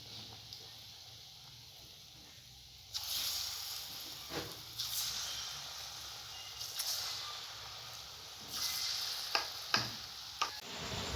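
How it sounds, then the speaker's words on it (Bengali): Palm fruit fritters (taler bora) deep-fry in oil with a steady crackling sizzle that swells louder partway through, broken by sharp ticks and pops, with no voices. "দেখুন সবগুলো বড়া আমি এরকমভাবে লাল লাল করে ভেজে নেব।"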